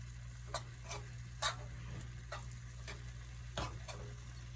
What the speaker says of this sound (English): So as this saute, we'll be back once it's done